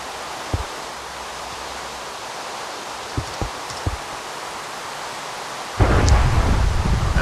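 A thunderstorm in the Minecraft video game: a few soft clicks, then a sudden crack of thunder gives way to a loud, sustained rush of rain and rumble.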